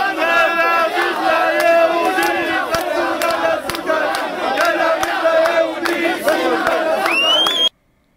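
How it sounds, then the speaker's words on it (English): An angry crowd chants in unison at a march through a South Tel Aviv park. The rhythmic shouting is loud and close, sustained for several seconds, then cuts off abruptly. "I filmed him leading an angry crowd in chants of"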